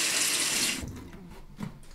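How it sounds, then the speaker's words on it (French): Water gushes from a bathroom tap during tooth brushing, a loud steady splash that cuts off abruptly partway through, followed by a few quiet knocks and movements. "ferme le robinet quand tu te brosses les dents"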